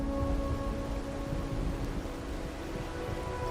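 Steady rain in the video game Wuthering Waves, a soft, even hiss of falling drops with a low rumble underneath and a faint sustained tone, quiet and unbroken.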